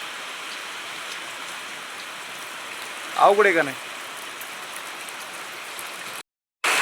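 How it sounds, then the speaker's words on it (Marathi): Steady morning rain falls, a continuous even hiss throughout, with a short burst of a person talking partway through. "बघा पाऊस झालाय चालू"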